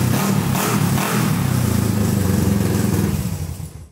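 A rat rod motorcycle engine runs steadily up close with a loud, rough, throbbing idle, holding even for several seconds before fading out at the end.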